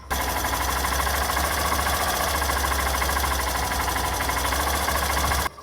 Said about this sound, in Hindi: अब थोड़ा इंजन का आप लोग साउंड सुनिए।